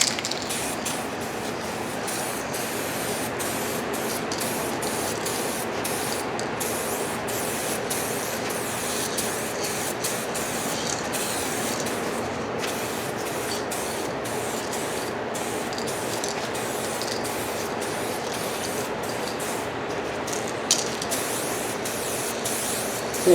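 Spray paint hisses from an aerosol can onto a drag bike fairing, a continuous close airy hiss lasting over twenty seconds with small fluctuations in strength.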